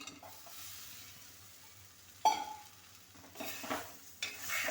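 Chopped mango stirred into sautéed masala in a pan for a drumstick curry, with soft spoon scrapes and a faint sizzle, punctuated by a sharp clink and a few louder stirring strokes.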